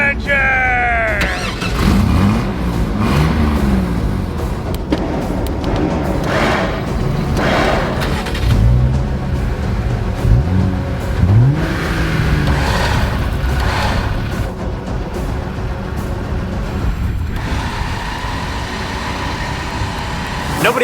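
Two electric winches with wireless remotes, one a three-stage planetary type, run side by side with a steady motor drone and rising and falling whines. Voices talk over the noise.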